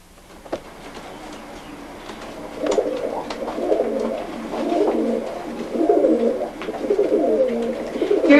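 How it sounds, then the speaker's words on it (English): German Owl pigeon cocks coo steadily in a loft, soft repeated throaty calls overlapping at close range, with a faint rumble of a passing train in the background. "Here are some birds showing you kind of generally their behavior."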